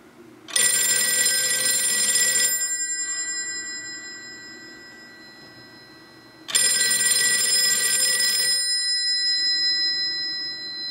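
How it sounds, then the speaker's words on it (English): A Western Electric telephone bell rings twice, two loud, bright metallic trills about two seconds each, with resonant ringing fading between them. "I'll do two rings because it's so early in the morning, I don't want to wake anybody up"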